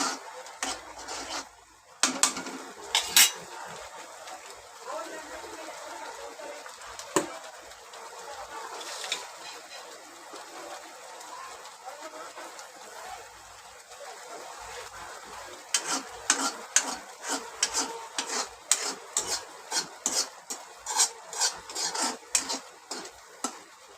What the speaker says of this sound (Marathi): मस्त व्यवस्थित त्याला तेल व्यवस्थित सुटेपर्यंत मसाला परतून घ्यायचा